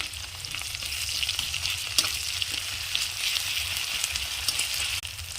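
Chopped onions with ginger-garlic paste sizzling in a pan of oil for a cabbage dish, giving a steady, close crackling hiss with small spits and pops and no talking.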